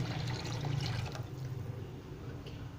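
Water splashes into a pot for besan kadhi, a soft gushing pour that tapers off over a couple of seconds, fairly quiet and with no talking.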